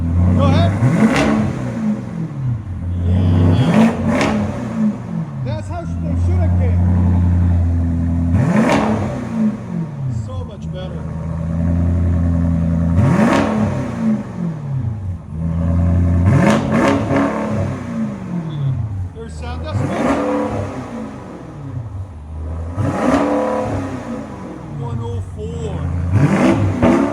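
A straight-piped 2019 BMW X5 M50i with its 4.4L V8 revs hard again and again, each throttle blip rising and falling in a loud, raspy sweep, with short idle gaps between pulls.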